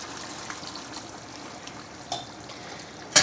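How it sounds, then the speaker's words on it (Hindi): Half a glass of water is poured into a pot of tinda (round gourd) and chicken curry as it cooks. The pour is a faint, steady trickle with a small splash near the end, and no one speaks. "तो अब इसके अंदर हम पानी डालेंगे, आधा गिलास पानी का।"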